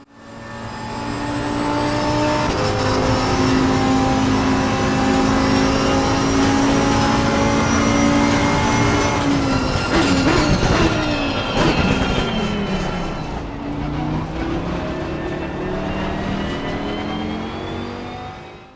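Race car in the Assetto Corsa Competizione racing game on PS4, a loud sustained engine roar that shifts pitch through gear changes and braking, with rumbling bursts from running over curbs midway, no talk.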